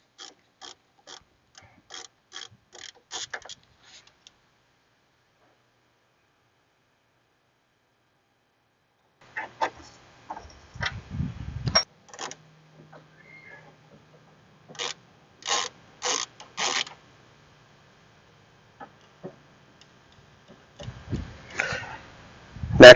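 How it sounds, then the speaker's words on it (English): Ratchet clicks and scraping as caliper guide pins are loosened with a socket wrench during a wheel stud repair, coming in short rhythmic runs of clicking with pauses and a low rub, close and fairly quiet. "Let's remove those so we can slide the caliper off from the rotor."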